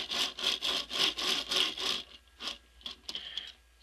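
Wheels of a painted Bruticus combiner toy robot figure from the Combaticons set rolling across a surface, a rhythmic scraping rumble in about seven close, even pulses, then a few lighter, scattered rolls and taps.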